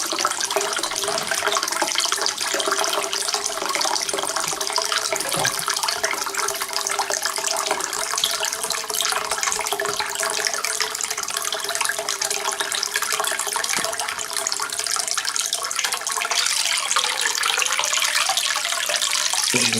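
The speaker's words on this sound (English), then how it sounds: "So what I'm going to do now is turn the tap back on." Water from a tap pours steadily over a ThruNite Archer 2A V3 flashlight during a stress test, making a loud, unbroken rushing splash with no voices.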